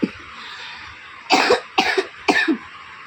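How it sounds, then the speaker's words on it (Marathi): Three sharp coughs close by after a quiet stretch, evenly spaced about half a second apart, each a short harsh burst. "आणि मला खोकला"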